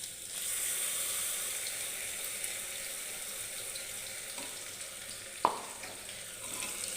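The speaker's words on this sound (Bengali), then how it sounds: "আমার কিন্তু আলু পটল সুন্দর মতন ফ্রাই হয়ে গেছে।" Potatoes and pointed gourd frying in a pan give a steady, fairly faint sizzle with a soft hiss throughout, plus one sharp clink of a utensil partway through. Nobody speaks.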